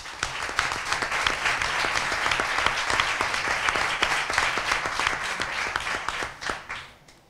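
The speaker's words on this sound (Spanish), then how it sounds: "Por eso pido un aplauso para ellos." An audience at a cultural magazine presentation breaks into steady, full applause, crisp individual claps blending into a sustained round that tapers off at the end.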